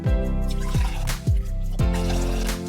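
Vinegar being poured into jars for fridge pickle brine: a series of glugging, gurgling pours with falling resonant tones as the liquid fills the glass, close and steady over a few seconds.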